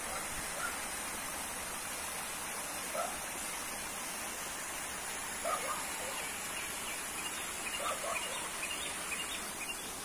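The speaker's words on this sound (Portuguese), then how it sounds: "Olha aqui, pessoal, que riacho mais lindo" Creek water flows in a faint, continuous hush, with occasional soft bird calls over it and no talking.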